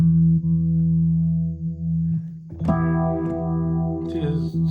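Yamaha CP88 stage keyboard playing sustained chords through a phaser effect, a swirling, sweeping modulated tone that holds steady, dips briefly, then resumes with a new, brighter chord, no talking over it.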